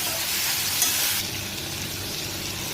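Chili, turmeric and masala spices frying in hot oil for a simple vegetable dish, a steady close sizzle with faint stirring, a brief clink partway through and slightly softer sizzling afterward.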